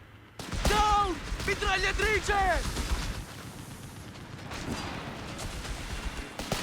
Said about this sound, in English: Gonna run straight into the machine gun here though.